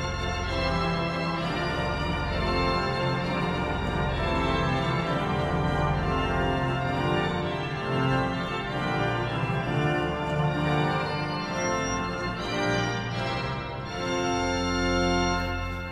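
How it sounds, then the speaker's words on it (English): The Hinsz pipe organ in the Bovenkerk at Kampen plays with all stops drawn plus the trumpet stop, a dense, loud, sustained full-organ chord that holds steadily for the whole stretch with no talking. "And with the trumpet, it sounds like this."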